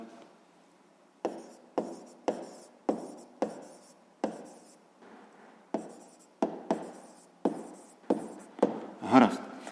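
Pen strokes on paper as a sixth-grade math solution is written out, a close series of short scratchy bursts separated by brief pauses.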